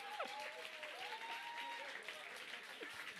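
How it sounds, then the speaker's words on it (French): Audience applause at a Paris political rally of the ecologists for the 2024 European elections, a steady wash of clapping with a voice and whistle-like tones over it. "On peut les applaudir quand même."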